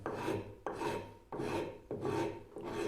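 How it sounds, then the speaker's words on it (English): A hand rasp files wood with steady repeated strokes, five rasping pulls in a row, each close and gritty, with no voices. "And if you can get a handmade rasp, they work a lot better also."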